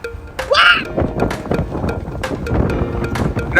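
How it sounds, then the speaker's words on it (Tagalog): Strong wind buffets the microphone in loud low rumbling gusts near Galena, Alaska, with strong waves, and brief voices and exclamations breaking through now and then. "Grabe, ang lakas ng hangin"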